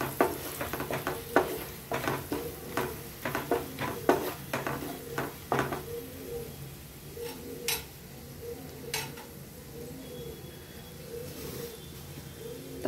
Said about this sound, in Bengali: মিট মশলা, দিয়ে এগুলোকে নেড়ে চেড়ে নেব।